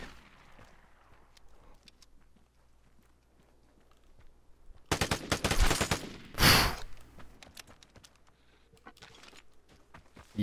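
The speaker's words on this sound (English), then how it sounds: "Eat M16 bullets, you fucking rat." M16 rifle fire in the online shooter Vigor: a loud burst of rapid shots in the middle, then a second sharp cluster, with quiet ambient game noise before and after.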